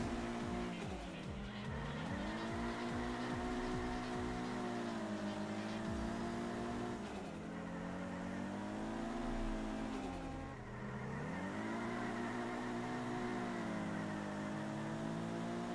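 A Mazda Miata engine in a racing video game drones steadily at high revs, pitch sagging and rising through corners and shifts, with tire squeal mixed in, loud and continuous for the whole stretch.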